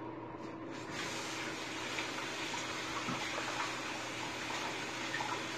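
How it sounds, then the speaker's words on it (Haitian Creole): Steady running water, like a tap left on, splashes continuously while someone rinses a face with water, close and moderately loud with no talking. "Vous rincer figure avec de l'eau qui quête."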